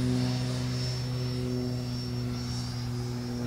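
Steady whine of an Arrows RC 64mm Marlin electric ducted-fan model jet flying overhead, a constant high-pitched tone with a faint pitch sweep as it passes, heard from a distance in an open field.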